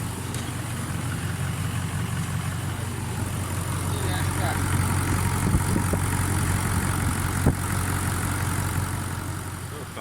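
Toyota 1VD-FTV diesel engine fully warmed up after a complete rebuild, idling with a steady low rumble and faint mechanical ticking, close and constant throughout.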